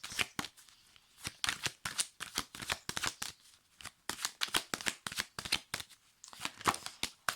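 Oracle cards being shuffled and drawn for a reading: a fast run of crisp, riffling card flicks and slaps, close and clear, with a short pause near the middle before the rapid shuffling resumes.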